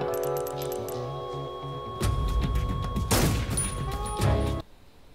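Video game gunfire in Metal Gear Solid 3: a rapid burst of shots and sharp cracks with ringing tones, loud and close, breaking off abruptly.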